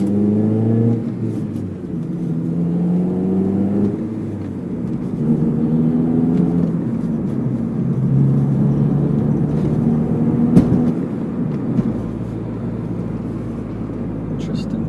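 Car with a Skunk2 short shifter adapter driving in second gear: a loud, close engine drone whose pitch climbs and falls as it pulls through the gear, with no break in the sound.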